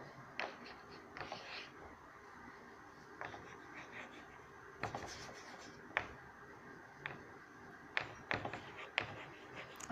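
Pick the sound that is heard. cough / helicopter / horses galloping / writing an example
writing an example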